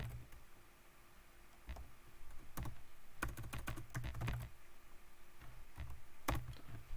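Someone types a short word on a computer keyboard while writing R code. A few scattered key taps are followed by a quick cluster of clicks, then a final tap, all close and crisp against a quiet room.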